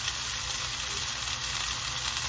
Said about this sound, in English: Nice hot sizzle, that's what you want to hear.